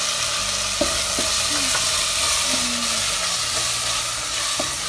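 Garam masala, coriander powder and turmeric are stirred into a sizzling matar mushroom mixture in a frying pan, giving a loud continuous fry with scattered scrapes and clinks of the spoon against the pan.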